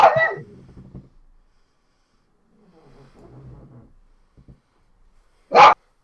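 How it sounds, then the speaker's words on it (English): Dogs bark and yip in a short, loud burst at the start and again near the end, with faint murmuring talk and quiet gaps in between. "Hey, I apologize for my dogs"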